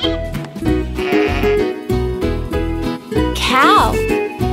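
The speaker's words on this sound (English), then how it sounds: "A baby sheep is called a lamb." Sheep bleating in short repeated calls, loud and close, in a regular rhythm laid over a bouncy children's farm-animal song with music throughout.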